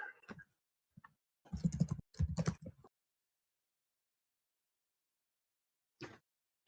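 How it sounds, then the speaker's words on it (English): Typing on a small laptop keyboard: a few scattered key clicks, then two dense bursts of rapid tapping, a pause, and one final short flurry, close and fairly quiet with no talk. "I quite like my laptop keyboard because it's very small."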